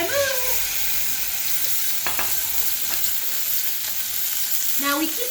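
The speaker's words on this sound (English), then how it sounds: "Leave the chop in the non-stick frying pan for about 2 minutes" Lamb chops with a Japanese white miso glaze fry in a non-stick pan over low gas heat, giving a steady close sizzle with occasional scraping and stirring sounds.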